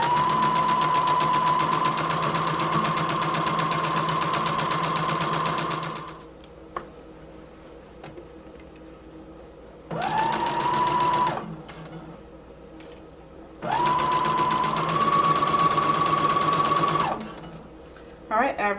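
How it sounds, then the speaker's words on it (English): A sewing machine stitches a skirt pocket seam with a steady, close mechanical whir in three runs separated by pauses, the first long and the later two shorter, with faint clicks between. "Lowering my needle, begin sewing, back stitch, and we're going to keep sewing straight up until we get to that bottom notch in our pocket."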